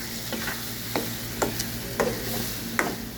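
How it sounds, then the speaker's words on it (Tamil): Squid masala being stirred in a pan with a spoon, a few distinct scraping strokes over a steady low hum and faint sizzle, no talking. "நல்லா கிண்டி ஆஃப் பண்ணிடுங்க மசாலா ரெடி ஆகிட்டு"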